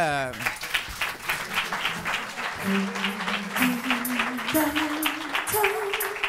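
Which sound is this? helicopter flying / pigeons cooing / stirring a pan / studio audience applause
studio audience applause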